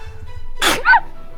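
A single sudden sneeze, short and squeaky with a high yelping end, over a low background hum.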